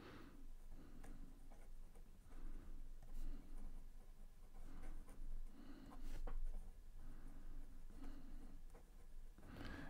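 A Pilot Birdie fountain pen nib, used upside down, scratches roughly across paper. The strokes are very quiet and come as a steady rhythm of short, raspy pulses.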